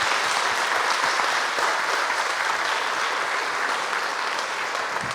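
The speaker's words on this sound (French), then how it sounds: "Je trouve qu'on peut l'applaudir quand même." Steady, full applause from a debate audience on biodiversity, a continuous even wash of many hands clapping without pause.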